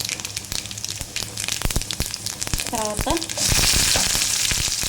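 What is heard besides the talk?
garlic and tempering seeds sizzling in hot oil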